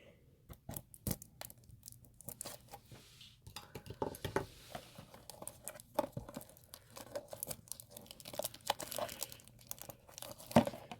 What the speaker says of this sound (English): let me take the plastic off and then I'll show it to you